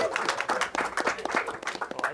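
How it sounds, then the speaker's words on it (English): Audience applause for Isaac, head of Channel U, at a TV channel launch event: a brief burst of steady clapping from a modest crowd, moderately loud, with a voice faintly underneath. "Isaac is getting a lot of applause"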